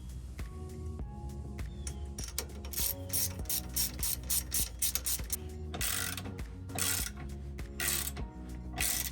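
A ratchet clicks in quick close bursts while tightening a 10 millimeter bolt on a van's rear differential, with rhythmic pawl ticks broken by short pauses and metallic rattles.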